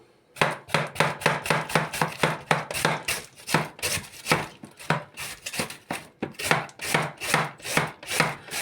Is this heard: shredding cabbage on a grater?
yes